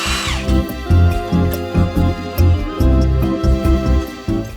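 A power tool, likely an impact gun, removes the factory U-bolts from the rear axle of a Toyota Tacoma during a bump stop install, sounding as loud repeated whirring bursts in quick rhythmic pulses.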